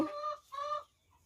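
Laying hens on a rural smallholding give two quick clucking calls close by, followed by a soft low murmur.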